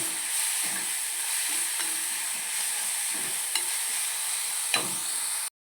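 Onions frying in a pan, a steady close sizzle and hiss with a few light scrapes of stirring and occasional clinks.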